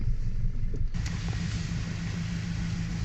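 A rear-wheel-drive converted Nissan Micra ticks over at idle in a field, a steady low engine rumble close by with a brief shift in tone near the start, running alone without talk.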